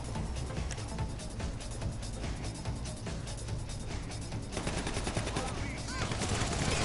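Rapid gunfire and automatic bursts from a GTA Online street shootout in a hood setting, loud and continuous throughout, with dense overlapping shots and no clear pauses.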